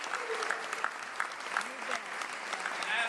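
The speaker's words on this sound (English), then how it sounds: "I think we ought to give the folks who put this together a round of applause for their efforts in doing that." An audience applauds at a military hall of fame induction ceremony, steady, dense clapping from many hands in a large hall, with a voice speaking faintly underneath.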